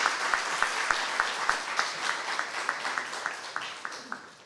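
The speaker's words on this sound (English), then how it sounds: "can we just give the judges a round of applause again for their time?" Audience applause honouring the judges at a startup showcase event, a steady wash of many hands clapping with a few sharp individual claps standing out near the front, moderately loud and continuous.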